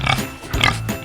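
A pig gives a few short, loud grunting oinks up close, in quick bursts.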